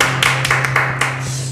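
Hands clap during a youth worship service at a church, several sharp claps in a loose rhythm, close and clear over a steady low hum.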